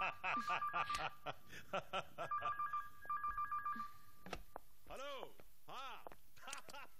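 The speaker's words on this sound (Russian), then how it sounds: "извини, мне звонят" A telephone rings in a series of short repeated electronic bursts, close and clear, followed by soft chuckling laughter and a voice.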